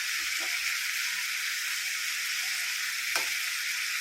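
Sliced Chinese potatoes, or koorka, sizzle steadily in hot coconut oil in a pan, with a constant close hiss and a couple of faint utensil clinks.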